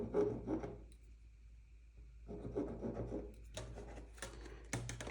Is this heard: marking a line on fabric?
yes